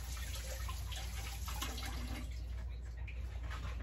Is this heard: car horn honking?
no